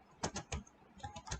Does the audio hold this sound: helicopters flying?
no